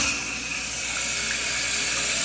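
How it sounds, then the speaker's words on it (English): Water runs steadily through a supply hose into the bottom of a Kohler Highline Arc toilet tank, a continuous close hiss and rush of filling with no talk. "you'll see the water coming through this hose here into this space and filling up the bottom of the tank with water"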